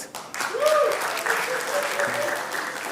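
Audience applause at a comedy show rises quickly into a steady wash of clapping that carries on throughout, with a short vocal whoop near the start.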